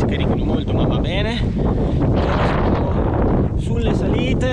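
Wind roars steadily against the microphone during an outdoor bike ride on hilly roads in cold, early-spring weather, a constant loud buffeting with a few faint tonal whistles mixed in.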